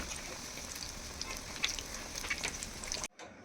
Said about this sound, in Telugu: లాస్ట్ అండ్ ఫైనల్గా ఆలు బజ్జీ కూడా ఫ్రై అయిపోయినాయి